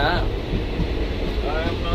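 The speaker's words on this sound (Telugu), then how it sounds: "ఇది ఏసీ బొగ్గి కాబట్టి ఏసీ కూడా ఆన్ చేసినాడు" A low, steady air-conditioning hum fills the background inside an AC train coach, with faint voices murmuring over it.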